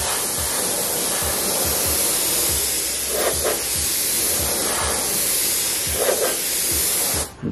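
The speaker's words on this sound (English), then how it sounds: "You're not spraying directly over the silver leaf." A paint spray gun hisses steadily as it lays clear coat over silver leaf in a custom paint job, a continuous loud airy spray with brief pulses and a short pause near the end.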